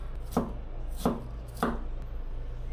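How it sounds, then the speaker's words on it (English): A knife chops garlic on a cutting board in three crisp, evenly spaced strikes, close and distinct over a low steady background hum. "Here's a little trick for mincing garlic."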